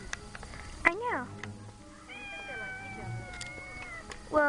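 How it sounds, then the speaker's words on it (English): A cat meows in a rising, wavering cry, followed by a longer drawn-out meow, with people talking faintly in the background. "Well, this cat seems to be fun."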